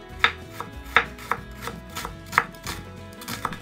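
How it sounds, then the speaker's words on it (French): A kitchen knife finely chops a halved onion on a board for a Japanese pork rice bowl, giving a handful of sharp, close, irregular chops with short pauses between them. "et on va couper le tout finement."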